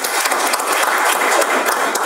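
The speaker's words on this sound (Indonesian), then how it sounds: "Tepuk tangan yang paling tinggi." Loud, dense applause from a church congregation during a sermon, a continuous burst of many hands clapping together for about two seconds.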